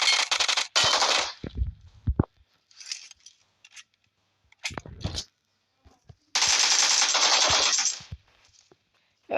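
Shotgun gunfire in PUBG, heard as several loud bursts of close shots and rapid crackling fire, with two long sustained stretches of shooting separated by near silence and sharp single reports.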